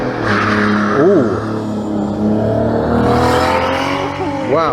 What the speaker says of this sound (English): That's got more cylinders than stock and a turbo by the sound of it.